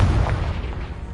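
A Confringo fire spell blasts in Hogwarts Legacy, a heavy booming explosion with dense low rumble that stays loud and slowly tails off, no voices over it.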